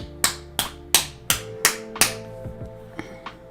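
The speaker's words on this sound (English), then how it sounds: "Oh, I don't know why, but my hands need to clap today." Hands clap in a steady series of about eight sharp, close claps over a faint tonal hum, the last few softer and more spaced out.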